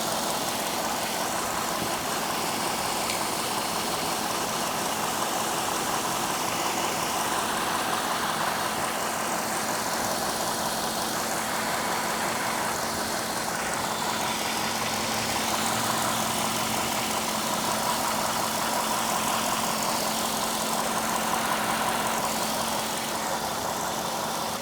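A Cadillac engine idles steadily and close by, its injectors ticking evenly under a broad, constant hum, with no voices throughout.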